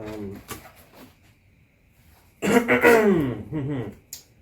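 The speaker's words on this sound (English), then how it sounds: "Had to clear my throat there." A single rough throat clearing, close and fairly loud, followed by a brief pause and a short sniff at the end.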